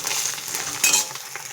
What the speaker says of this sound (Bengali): আর খানিকক্ষণ হলেই মাছটা ভাজা হয়ে যাবে